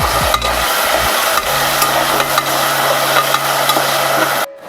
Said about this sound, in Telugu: టమాటాలు బాగా ఉడికేటట్టు ఆయిల్లోనే ఫ్రై చేసుకుందాం